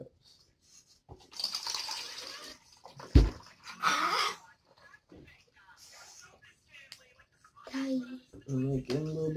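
Water is poured from a measuring cup into a container for homemade slime, giving short splashy bursts between pauses, while a voice talks close by near the end.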